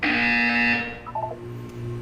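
A Portal 2 test-chamber buzzer sounds once, a loud harsh electronic tone that holds briefly and fades, followed by a few faint electronic blips over a low room hum.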